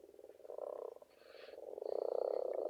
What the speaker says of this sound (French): tu entends que les chants des grenouilles au loin commencent à se répandre un petit peu partout dans la vallée marécageuse